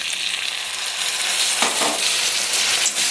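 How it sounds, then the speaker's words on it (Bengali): Potatoes and drumstick pieces sizzle steadily in a pan with spices, tomato and a splash of water, with a loud continuous fry and brief scraping stirs partway through. "দিয়ে একটু কষিয়ে নিই"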